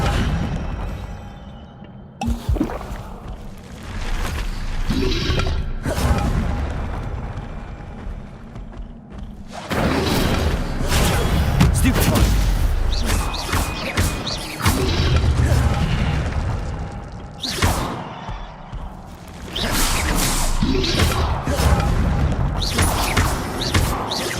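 Incendio fire spells in Hogwarts Legacy go off as repeated heavy whooshing booms and crackling bursts, loud and close, in several waves separated by brief quieter gaps.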